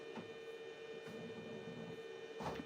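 An xTool laser cutter runs through wood, a steady low mechanical hum with a faint whine and a few soft clicks and shifts, fairly quiet and with no speech.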